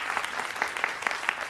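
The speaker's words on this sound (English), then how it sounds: "A round of applause." Audience applause for a Maryland public defender being introduced at an event, steady dense clapping from a room of people, continuous and moderately loud.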